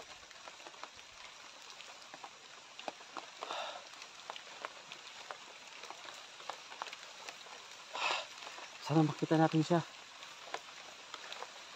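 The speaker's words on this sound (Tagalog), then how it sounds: "Lalo malakas na yung ulan." Rain patters steadily in a video game, a soft continuous wash beneath occasional talking, with a few short louder bursts near the end.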